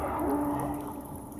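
Armsy mutant in The Forest video game, making a low, droning, groaning wail with a wavering tone inside a cave, steady and close for a brief moment, no talking.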